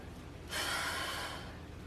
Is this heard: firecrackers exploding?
no